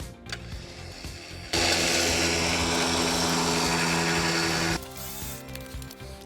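An electric truck winch, hooked up to a battery for a test, whirs in a loud steady mechanical drone for about three seconds and then cuts off abruptly, with quieter handling clatter before and after.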